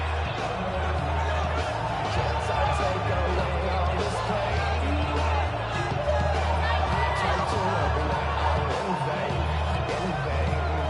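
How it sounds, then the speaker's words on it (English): Steady, loud stadium roar of a football video game crowd, Lions on the field, a dense wash of cheering that never drops, with a play-by-play voice talking over it throughout. "This crowd turning up the decibel level."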